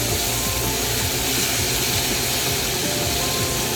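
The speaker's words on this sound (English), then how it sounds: "So I'm sauteing this in some garlic butter." Garlic, green onions and peppers sizzling in garlic butter in a pan, a steady close-up frying hiss that runs unbroken and fairly loud with no talk.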